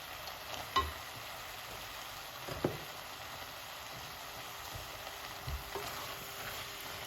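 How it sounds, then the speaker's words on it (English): Callaloo from a tin cooking in a pan and being stirred. A faint, steady sizzle runs throughout, broken by a few soft scrapes and knocks of the spoon. "Give that a stir"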